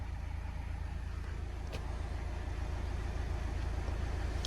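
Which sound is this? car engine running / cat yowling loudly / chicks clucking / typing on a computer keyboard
car engine running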